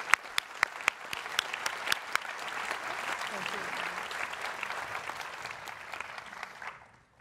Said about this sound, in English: if we could just say a round of applause to our four Distinguished Faculty Achievement Award winners